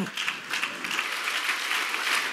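A church congregation claps during a Sunday worship service, a brief burst of crowded applause with a rhythmic, pulsing quality.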